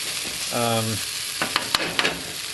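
Food sizzles steadily in sesame oil in a wok, a continuous close frying hiss with a few sharp stirring clinks and taps near the end, plus a brief tonal squeak early on.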